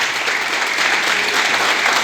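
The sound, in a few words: congregation applause in church service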